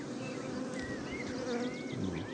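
Honeybees at work on hive frames during a fresh maple nectar flow, a dense continuous close-up buzz of many wings with individual bees droning past, no speech.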